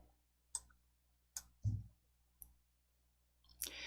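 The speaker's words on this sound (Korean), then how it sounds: "한자 키 누르실게요. 한자 키 눌러주세요." Isolated key clicks on a computer keyboard, the hanja key pressed during Korean word-processing practice, come as about five separate sharp taps spaced roughly a second apart, close and clear in a quiet room.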